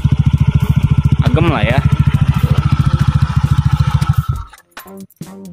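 A Honda Beat scooter with a ZRC exhaust idles with a deep, rapid pulsing thump and is blipped lightly before cutting off, close and loud, while someone speaks briefly over it.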